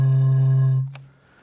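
A steady, pure tone hums from a water bottle acting as a mass-spring resonator, sustained and fairly loud for under a second before cutting off, followed by a brief click.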